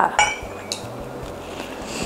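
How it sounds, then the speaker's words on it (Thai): An egg is cracked into a ceramic microwave-safe coffee mug for a mocha mug cake, giving a few short clinks and taps of shell and spoon against the mug. "นำถ้วยกาแฟนะคะ ที่เป็น แก้วเซรามิกแบบนี้มานะคะอย่าใช้เป็นพลาสติกเอาที่แบบเข้าไมโครเวฟได้ค่ะ โอเค ใส่ไข่ลงไปค่ะ"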